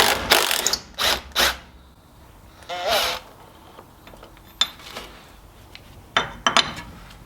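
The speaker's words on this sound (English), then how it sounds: "I'm going to go in with a smaller socket that'll fit in the hole." A ratchet fitted with a smaller socket undoes a rusty bolt on a Ford Sierra Sapphire RS Cosworth, giving several short bursts of clicking ratchet pawl with pauses between, close and fairly loud.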